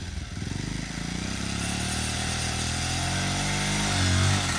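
A motorcycle engine at a stunt school in Delhi is revved steadily during wheelie practice, a loud, buzzing drone that climbs and holds, swelling near the end, with no talk.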